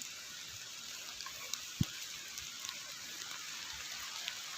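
Rain falls steadily on an open field planted with young porang (konjac), making a quiet, even hiss with a few scattered drips and one brief low thump.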